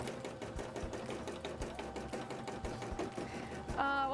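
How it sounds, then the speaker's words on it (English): A sewing machine runs steadily close by, its rapid rhythmic needle clatter repeating without a break, fairly quiet, with a brief tonal electronic chirp near the end. "Probably not because of the sewing machine."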